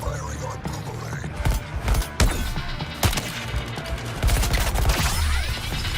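Boomerang weapon firing in Suicide Squad: Kill the Justice League, a rapid string of sharp, cracking gunfire bursts and mechanical clatter amid busy combat effects.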